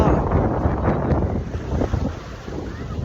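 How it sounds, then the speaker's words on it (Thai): Strong wind buffets the microphone on Patong beach, a loud continuous roar and rumble with surf washing faintly underneath. "ลมแรงมากคุณพ่อ"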